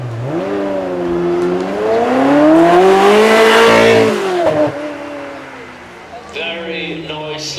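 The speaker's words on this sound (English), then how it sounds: "It's undeniable, the shrill of the V8 from a Ferrari." A Ferrari V8 racing on a track at a supercar weekend: a loud, shrill engine note climbs and swells to a peak, then falls away as the car passes, and a higher whine follows near the end.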